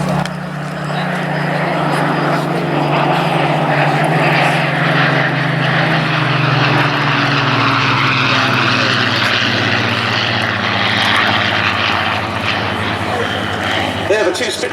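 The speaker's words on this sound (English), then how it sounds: "the two Spitfire 1As on the break to bring to a close the flying programme here at the Duxford Air Festival 2017" Two Spitfire Mk IA fighters breaking at the close of the flying display at Duxford Air Festival 2017 give a loud, continuous piston-engine roar with a slowly sliding drone, while a public-address voice talks over it throughout.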